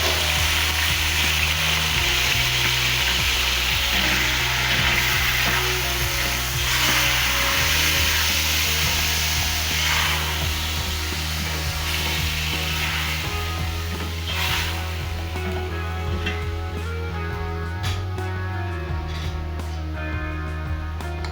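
Chicken sizzles and fries steadily in a pot with garlic and ginger for a Pakistani-style curry, with loud continuous crackling and the scrape of stirring running throughout and no voices.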